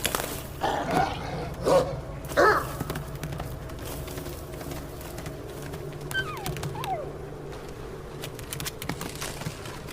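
A dog pup in Assassin's Creed Valhalla whimpers in a few brief high, wavering cries over a low ambient game bed, with faint later whines.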